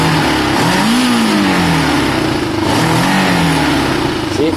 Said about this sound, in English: I'm going to idle it a bit actually, see if it even starts.